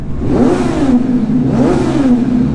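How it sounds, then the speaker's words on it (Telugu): A Kawasaki motorcycle fitted with an Arrow exhaust revs loudly and close by, making two rising-and-falling throttle blips with a deep, throaty drone between them and no voices. "ఇప్పుడు యారో సౌండ్ ఇందామా?"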